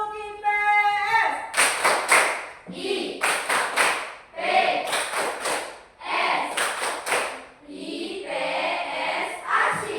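A class claps together in a rhythmic clap chant, bursts of group clapping in patterned runs with chanted voices between and over them.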